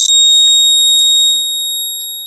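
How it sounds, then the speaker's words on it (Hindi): A power cut warning alarm circuit's buzzer sounds a loud, steady, piercing electronic tone that holds throughout and slowly fades a little toward the end. "आप यहाँ पर देखिएगा ये बजर जो है कि यहाँ पर"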